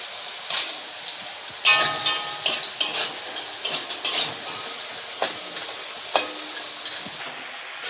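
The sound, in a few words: frying bori (lentil dumplings) in a pan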